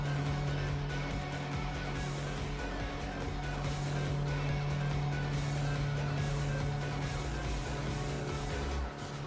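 A car engine in the Tokyo Xtreme Racer video game drones with a steady, sustained hum, mixed with game music at a fairly low, even level throughout.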